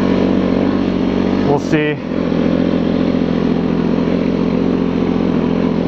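A snowmobile engine drones loud and steady while riding over crusty, cement-like snow, with a short spoken remark partway through.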